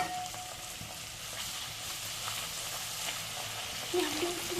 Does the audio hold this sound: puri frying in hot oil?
yes